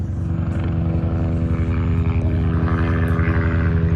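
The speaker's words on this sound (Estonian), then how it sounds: "Lennuk, helikopter." A helicopter's steady rotor chop and engine drone fill the scene, loud and constant with a pulsing low throb and no voices.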